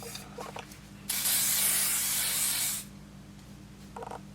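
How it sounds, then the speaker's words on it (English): Air crystal-infused shine spray, a hair mist with mica and lion's mane mushroom extract, hisses out in one continuous close burst of about two seconds, with quiet handling sounds around it. "I actually love this shine spray."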